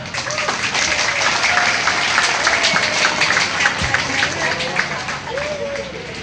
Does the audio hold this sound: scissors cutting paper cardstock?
no